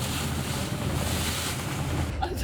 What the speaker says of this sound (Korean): 파도가 심상치 않습니다.